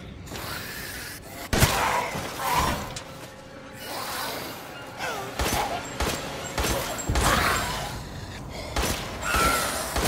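Gunshots in the video game Resident Evil Village, a series of loud repeated blasts spread over several seconds, each with a short ringing tail, mixed with mechanical game sounds.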